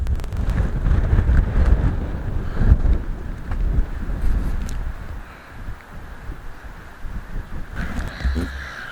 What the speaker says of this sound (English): The wind's blowing offshore, so it's actually quite calm out there